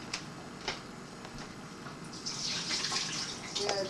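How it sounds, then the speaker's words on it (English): Water from draining boiled potatoes rushes in a soft, steady hiss that swells louder in the second half, with a few faint clicks; close and unaccompanied by talk. "drain the potato."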